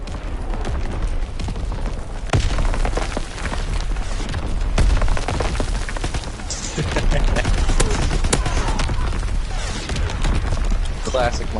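Artillery barrage in Call of Duty WW2 gameplay, with dense overlapping booms and gunfire rolling continuously under a voice talking throughout.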